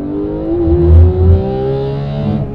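A Porsche 991.2 GT3 sweeps through a corner on a race track, its engine note loud and close, a smooth rising, whirring tone that swells and eases without any talk.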